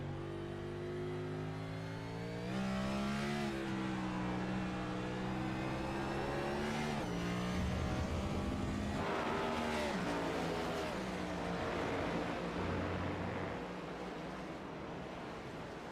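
NextGen Cup race cars lap the Red Bull Ring in the iRacing simulator, engines revving and droning steadily at moderate volume across the whole stretch, with shifting pitch and a brief skid-like scrub.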